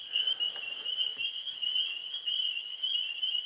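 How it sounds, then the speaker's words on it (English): Tree frogs calling outdoors at night, a steady high-pitched chorus of rapid trills that stays even and continuous throughout, fairly faint and heard with no voices over it. "listen to the frogs."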